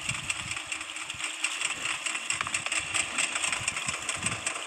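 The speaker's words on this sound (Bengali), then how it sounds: "কিন্তু ভাই গেমের বাইকের আওয়াজটা ভাই এরকম কেন ভাই?" Motorcycle engine in a Bangladeshi open-world video game, a steady buzzing idle with a rough, pulsing low rumble and thin whine, continuous and moderately loud, no talk over it.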